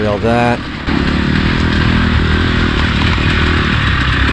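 KTM two-stroke dirt bike riding through a muddy section, its engine droning loud and steady throughout, close by, with a brief burst of talk near the start.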